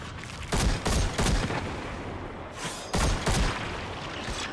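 Rapid bursts of gunfire ring out from a weapon in the Destiny 2 video game, loud, fast repeated shots in two or three volleys separated by brief lulls, with no voices over them.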